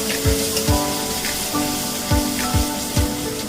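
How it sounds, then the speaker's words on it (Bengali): Pre-fried potatoes go into a pan of vegetarian paneer curry and sizzle steadily, with a few soft knocks of stirring at regular intervals, close and fairly loud. "এবারে আলুগুলো দিয়ে দেব, আগে থেকে ভেজে রেখেছিলাম যেগুলো"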